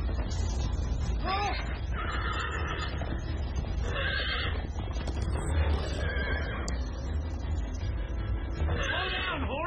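Horse whinnies ring out repeatedly over a steady rumbling soundtrack in Minecraft: Story Mode, the neighs rising and falling in short bursts.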